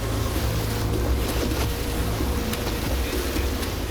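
Boat with an outboard motor running on the water off a Maui reef, a steady low engine drone mixed with wind and water noise, continuous throughout with no talking.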